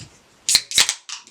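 A sharp metallic crack and hiss as a can of Carlsberg beer is snapped open, a few quick bursts close up with no talking.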